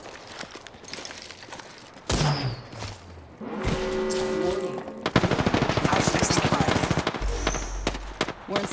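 Video game gunfire, with rapid machine-gun bursts and single shots in dense rattling volleys, loud and close, separated by short booms, and some game voice chatter mixed in.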